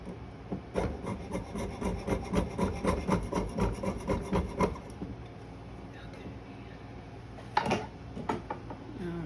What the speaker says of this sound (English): I'm going to saw that so that I get a nice clean cut there